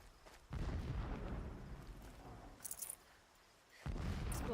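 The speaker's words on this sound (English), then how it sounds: "Explosions in the distance." Distant explosions rumble through a Horizon Zero Dawn Remastered game scene: a low, sustained roar with a few soft bursts in the middle, then another heavy boom rolling in near the end, with no talk.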